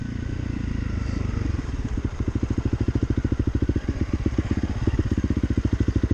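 A 2023 Honda CRF300L Rally motorcycle crawling slowly off-road, its single-cylinder engine thumping in a steady, even low pulse close by, loud and continuous with no talk.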